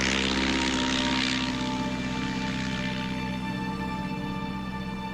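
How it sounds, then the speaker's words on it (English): A de Havilland Tiger Moth propeller biplane passes close overhead, its loud piston engine drone and buzzing airscrew peaking at the start and then easing slightly as it moves on, with no talk. "There's definitely the tiger moth."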